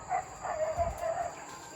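A dog barks and yips in a few quick, mid-distance bursts, set against steady background hiss.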